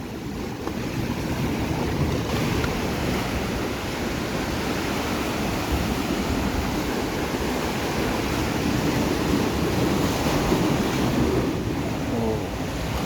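Ocean waves crash and surge continuously in a dense, loud roar of surf heard from up high on the shore, with no voices.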